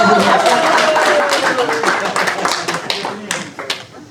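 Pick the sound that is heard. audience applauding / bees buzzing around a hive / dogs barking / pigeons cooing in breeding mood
audience applauding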